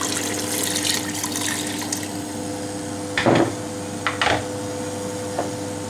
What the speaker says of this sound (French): pour moi je vais rajouter de l'eau pour laisser cuire, pour laisser bouillir